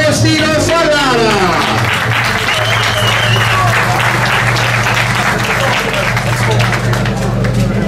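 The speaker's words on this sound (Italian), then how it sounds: "Applauso, applauso, applauso" A crowd at a hill slalom race in Oppido Mamertina applauds the winner, loud continuous clapping mixed with crowd babble, while a voice talks over it near the microphone.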